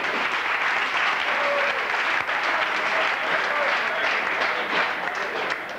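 A crowd applauds at a 1992 car bass sound competition, the dense clapping steady and full from start to finish.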